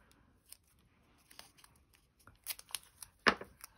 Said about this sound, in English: I will do my usual and split the washi tape